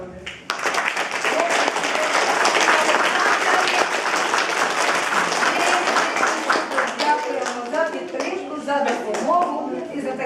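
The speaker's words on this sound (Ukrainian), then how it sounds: "оплески ще раз" Applause from parents and guests at a fourth-grade school event, loud dense clapping sustained throughout, with children's and adult voices rising under it toward the end.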